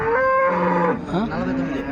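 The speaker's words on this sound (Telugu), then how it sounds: "జెర్సీ ఆవు దూడ అయితే ఉన్నాయి" A cow moos twice up close at a cattle market, a long low bellow followed by a second shorter, wavering moo.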